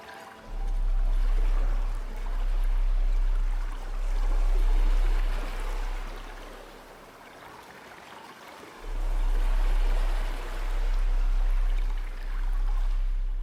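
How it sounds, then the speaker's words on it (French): Ocean waves wash in a slow rhythm, each surge swelling and fading in a broad rushing roar, with one quieter lull midway through. "Replace-le calmement sur le bruit des vagues"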